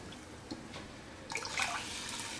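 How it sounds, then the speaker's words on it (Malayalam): Water is poured into thick yogurt in a pot while making moru curry, a soft trickle and splash that swells midway, quiet and close with faint drips before it. "ഞാനപ്പോൾ കുറച്ചുകൂടി വെള്ളം തൈരിലേക്ക് ചേർക്കുന്നുണ്ട്"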